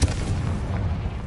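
A Confringo blasting spell explodes in the Hogwarts Legacy video game, giving one loud, deep, rumbling boom that hits at once and holds steadily for about a second without fading.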